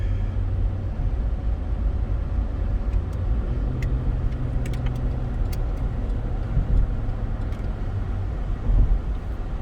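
A green EK hatchback drives along the road, heard from inside the car as a steady low engine and tire rumble that continues throughout at an even level, with no talking.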